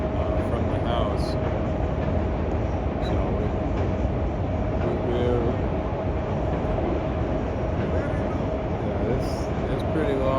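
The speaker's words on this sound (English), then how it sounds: "we're able to hear the train" A long freight train passes near a house, giving a steady, loud rumble and rattle of rolling cars that fills the whole stretch. A single spoken word is heard under the noise.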